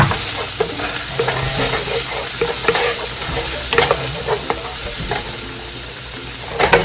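Garlic sizzles in olive oil in a pan, a loud continuous frying hiss broken by frequent stirring scrapes and small crackles, with no talking.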